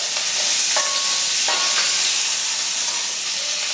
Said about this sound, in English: We're going to add our red wine to this. This is homemade red wine